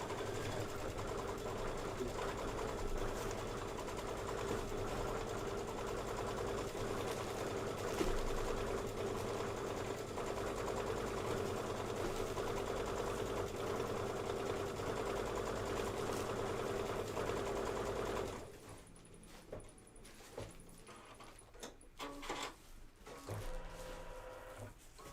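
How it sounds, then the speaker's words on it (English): An embroidery sewing machine stitches the ice cream base placement line onto flex foam for a Kimberbell Two Scoops sew-along, running as a steady close whirring drone for about eighteen seconds and then stopping, with faint handling noises after. "you're going to stitch the ice cream 1 base placement line"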